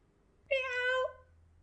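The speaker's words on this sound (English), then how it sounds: ""Meow," cried the forlorn cat again." A single drawn-out meow from a forlorn cat, about half a second long, close and distinct against near silence.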